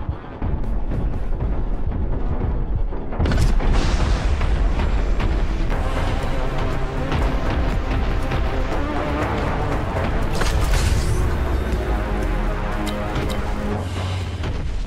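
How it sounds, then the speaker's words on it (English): Continuous heavy gunfire roars through a hallway in Warhammer 40k Boltgun, a dense unbroken barrage of booming shots and blasts that stays loud throughout after a brief quieter opening. "Just shooting down the hallway now."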